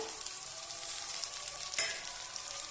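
Onion and chopped tomato sauté in a pan for kunji karuvattu thokku, a small dried-fish dish. A loud, steady sizzle runs throughout, broken by one brief clatter partway through.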